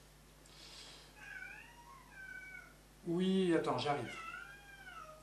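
A cat gives a few short, wavering meows at moderate volume, followed by a louder stretch where a person speaks close by over the cat's cries.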